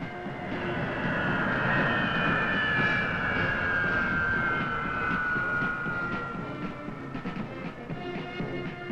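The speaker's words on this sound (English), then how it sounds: "an East African Airways jet landed at Lusaka International Airport" An East African Airways jet lands at Lusaka International Airport, its engine roar loud and sustained, holding a steady whine before easing slightly toward the end.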